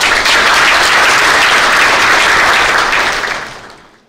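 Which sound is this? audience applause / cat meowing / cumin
audience applause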